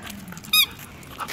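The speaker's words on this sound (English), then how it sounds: "Squeaky squeak." A dog's squeaky toy ball gives one sharp, loud squeak up close, with quiet room sound before and after.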